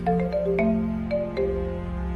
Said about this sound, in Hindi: तभी विक्की के फोन की रिंग बजी